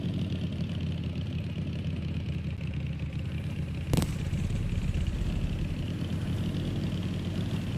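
A motorcycle engine idles in the video game Night of the Dead, a steady low rumble holding even and close for the whole stretch, with one brief sharp knock partway through.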